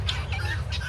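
Farm birds that have followed people out on a walk cluck and squawk nearby, a steady cluster of short calls over a low rumbling background with no talking.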